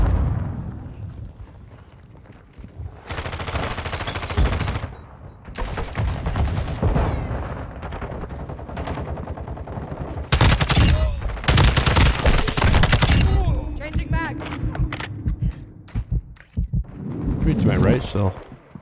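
TAQ-56 rifle fire in Modern Warfare 2, loud rapid automatic bursts broken by short pauses, with someone talking between and over the shots and in-game announcer callouts.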